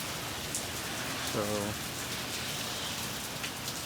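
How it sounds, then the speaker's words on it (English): Heavy rain from tropical storm Hilary in San Diego, 2023, pours steadily, a dense broadband hiss of drops hitting surfaces, with a brief murmur of a voice partway through. "Massive amounts of rain."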